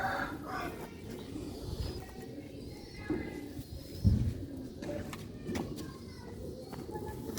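Pigeons of a pure Mian Sahib breed coo softly in a loft, their low murmurs recurring through steady background noise with scattered chirps and clatter.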